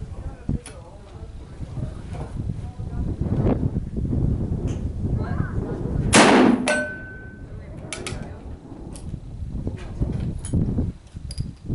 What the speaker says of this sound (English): Sounds like I gotta do some rapid firing with the single shot.